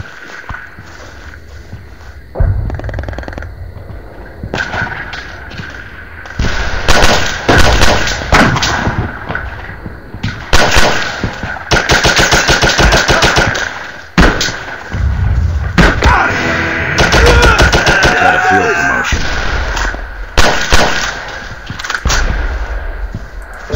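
Machine gun fire in a military video game, loud rapid bursts of automatic shots that come in repeated long strings with short pauses between, heard alone without talk.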